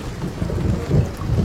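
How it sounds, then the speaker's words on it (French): An audio-drama thunderstorm at sea rumbles with deep rolling thunder over a steady wash of heavy rain, loud and close, with no voices. "La tempête se prépare."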